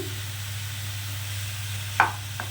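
Grated radish fries quietly in a pan with a low steady sizzle, and a sharp scrape of the stirring utensil comes near the end, followed by a fainter second one.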